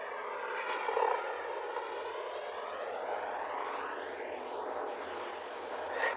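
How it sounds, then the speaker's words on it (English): A lawnmower drones in the background outdoors with a steady, moderately faint engine hum that rises and falls slightly, with no talk over it. "Sorry for the lawnmower."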